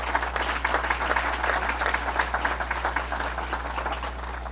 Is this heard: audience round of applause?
yes